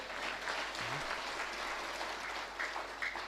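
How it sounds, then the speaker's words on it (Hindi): Faint, steady audience applause at a religious discourse on the Ramcharitmanas, soft and distant with a few voice sounds mixed in. "तालियां बड़ी कमजोर है"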